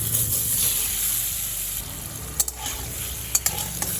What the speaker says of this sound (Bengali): এই তেলে আমি 200 গ্রাম পনির ভেজে নেব।